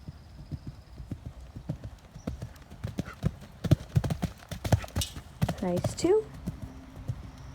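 Horse hooves clip-clop in a steady canter rhythm around a jump course with a skinny fence, fairly close and clear, with a brief whinny near the end and a voice speaking briefly over it.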